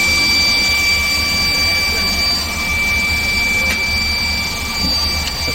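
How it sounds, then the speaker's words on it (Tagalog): A telecom power rectifier runs after a power tapping installation, giving a steady, loud electrical hum and fan-like whir with faint high-pitched whine tones, continuous and unbroken throughout. "Gumagana ng rectifier."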